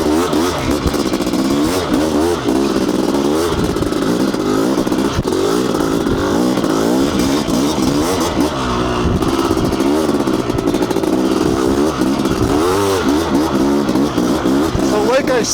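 Honda CR500 dirt bike ridden along single track, its engine droning steadily and loudly throughout with shifting pitch, rider talking over it.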